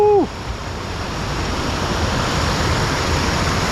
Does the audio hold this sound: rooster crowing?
no